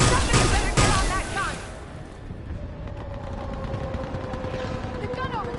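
Rapid turret gunfire from Mass Effect 3 bursts loudly in the opening seconds, then gives way to quieter battle noise with a steady hum, while voices shout orders over the action.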